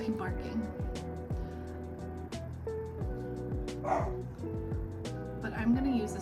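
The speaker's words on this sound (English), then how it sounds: "he'll just start randomly barking." An elderly dog, nearly sixteen and a little senile, barks in short repeated yips over steady background music, moderately near, interrupting at irregular moments.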